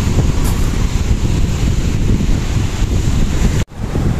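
Sea waves roll onto a beach under strong, gusty wind buffeting the microphone, giving a loud, continuous roar of surf and wind with no voices.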